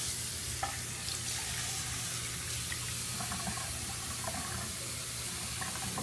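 Tap water runs steadily into a sink while a razor is rinsed during a shave, a continuous close hiss and splash with small clinks, no talking.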